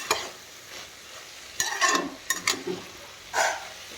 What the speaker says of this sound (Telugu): మధ్య మధ్యలో మనం ఇలా టాస్ చేసుకుంటా కలుపుకుంటా ఉండాలన్నమాట.